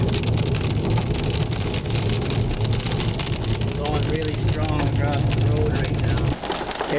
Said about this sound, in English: There's a serious amount of wind here.